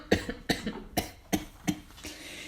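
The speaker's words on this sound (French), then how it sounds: "M. Pau fut encore pris d'une quinte de toux." A man's fit of coughing, six sharp coughs in a steady rhythm about every half second, close and moderately loud, with no talk.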